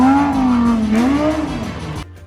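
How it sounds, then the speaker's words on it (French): A car loses control beside a road, its engine whining loudly as the pitch sags and rises with a squealing edge, then cutting off abruptly into quiet. "Une voiture perd le contrôle et s'écrase sur le bas-côté de la route"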